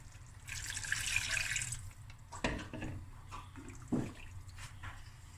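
Water splashes and pours into a pot for about a second, then a few clanks and drips follow in a quiet room.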